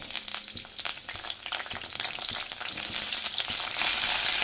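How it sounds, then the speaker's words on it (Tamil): Frying in hot oil, a close, bright crackling sizzle that grows steadily louder and denser over a few seconds, with occasional light clicks of stirring and no voices. "இப்போ இங்கே எண்ணெய் வச்சுருக்கேன், இதை முதல்ல நல்லா ஃப்ரை பண்ணி எடுத்துடலாம்."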